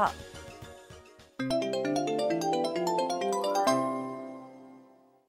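An office telephone in a Japanese company rings with a bright electronic melodic ringtone, a short run of tones that swells, then a sustained phrase that fades out, heard alone.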